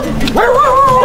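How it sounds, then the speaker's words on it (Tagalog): A dog gives a single drawn-out yelping bark that rises and holds, close and loud, with faint voices just before it. "Yan na, may aso."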